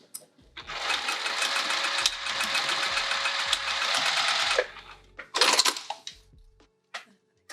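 A sewing machine stitches a sling in one long continuous run, then a shorter burst follows after a pause. Each run is loud and close with a busy mechanical whir.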